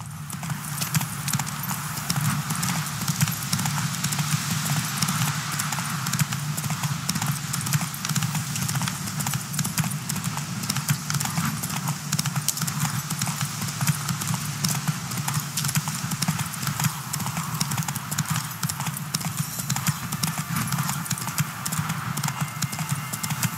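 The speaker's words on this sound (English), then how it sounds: "Giddy up. Whoa there, Roach" A horse gallops in The Witcher 3 video game, its hooves beating a fast, even clip-clop rhythm that continues without a break at steady loudness, with no talk.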